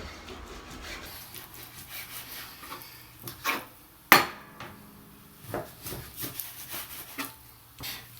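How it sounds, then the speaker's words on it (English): Knife cutting cooked chicken into long strips for a paleo chicken enchilada lasagna, heard as soft, close scraping and rubbing strokes with one sharp tap midway, quiet and without talk. "I'm going to cut it in long strips, just like you're seeing here."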